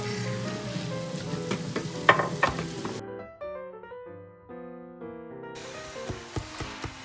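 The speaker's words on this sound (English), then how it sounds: "we're gonna take a 1/2 pound of beef and a 1/2 pound of Italian sausage, and we're just gonna cook that all up" Half a pound each of ground beef and Italian sausage frying together in a pan, a crackling sizzle with a few clanks, overlaid by music that briefly takes over midway.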